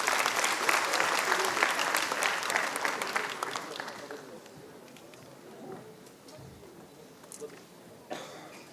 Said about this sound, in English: Let's welcome him with a round of applause as well.